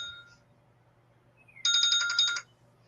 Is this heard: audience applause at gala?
no